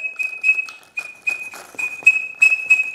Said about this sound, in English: It gets a lot of air through the whistle, and it does a really good job.